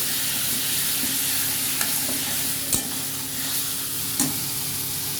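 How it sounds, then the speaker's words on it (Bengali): Chicken curry stirred and fried in a pan, with a dense, constant sizzle close by and a few sharp knocks of the spoon against the pan. "এটাকে আমি আস্তে আস্তে কষিয়ে নেব যে নাড়াতে নাড়াতে দেখুন"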